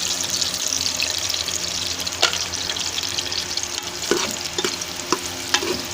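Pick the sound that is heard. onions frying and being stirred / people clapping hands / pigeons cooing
onions frying and being stirred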